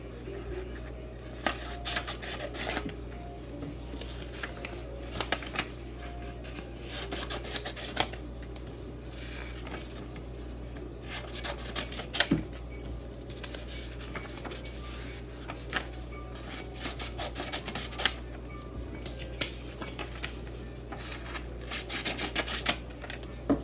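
Scissors cut through paper slips for a giveaway drawing, giving repeated rustling snips and paper rubs at close range in an irregular rhythm over a steady low hum, with no talking.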